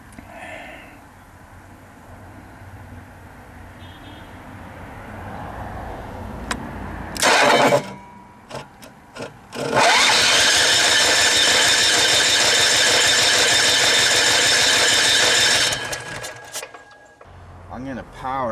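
An Onan 4000 Microlite RV generator that won't start, with its fuel pump priming: after quiet clicks, a loud, steady mechanical whirring starts up and runs for several seconds before cutting off, close to the listener.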